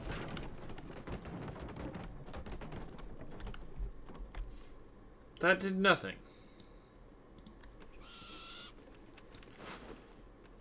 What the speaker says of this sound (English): Unless it's that awful squawking sound that you're on about.